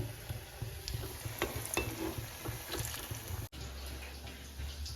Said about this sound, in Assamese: আৰু এইপিনে ভাজি খুৱাই আছে।